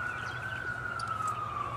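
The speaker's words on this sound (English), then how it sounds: "Ignore the sirens." A single siren wails at a steady pitch, held continuously and moderately distant, with no talk over it.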